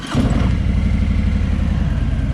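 A 2017 Harley-Davidson Freewheeler trike with a Milwaukee-Eight 107 cubic inch engine idles loud and close, a steady deep rumbling throb with a lumpy pulse that continues throughout.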